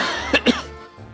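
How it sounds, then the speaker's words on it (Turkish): Two quick, close coughs in succession, short and throaty, with no talking around them. "öksürüyorsun"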